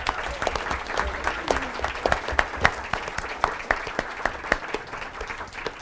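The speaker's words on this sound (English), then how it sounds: "give Memorial a round of applause" A school audience at a middle-school competition event applauds a performing group, producing close, crisp individual claps that build into a steady, fairly loud round with a few sharper standout claps throughout.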